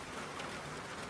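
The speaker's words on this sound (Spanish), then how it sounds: "y con esta lluvia, miren, esto es ensueño." Steady rain pours down outdoors, a dense, even hiss of falling water on surfaces that fills the whole moment with no voices.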